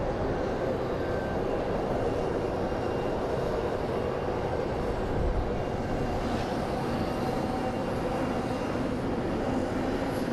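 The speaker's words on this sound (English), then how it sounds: "there's the Honeywell Beast. It's a 757" A Honeywell Boeing 757 test bed aircraft at Phoenix Sky Harbor International Airport, heard as a steady, broad jet engine roar that holds at an even level throughout, somewhat distant, with no voices.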